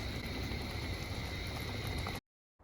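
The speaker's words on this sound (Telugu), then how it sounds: "పప్పు ఉడుకుతూ ఉండగా అడుగు అంటకుండా చూసుకోవాలి" Dal (lentils) boiling in a pot for Telangana pappu rotte, a steady dense bubbling hiss that holds loud and even for about two seconds, then cuts off abruptly to silence.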